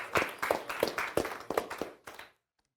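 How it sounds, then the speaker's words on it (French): A small audience at a Téléthon gaming quiz claps after the first round, about eight sharp, close handclaps in a quick uneven rhythm that stop abruptly into silence. "oui, on peut s'applaudir"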